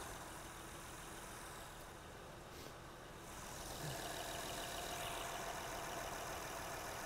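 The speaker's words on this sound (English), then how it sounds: "Oh, she just kicked up the RPM." A 2006 Honda Odyssey with a 3.5 engine and a random misfire idles with a low, steady hum that grows slightly louder and higher partway through as the RPM kicks up, heard faintly from a distance.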